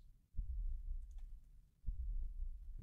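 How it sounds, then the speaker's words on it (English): Heartbeat from the horror video game Layers of Fear: two deep, muffled low thumps about a second and a half apart over a dark rumbling background, with no talking. "Okay, that is a heartbeat."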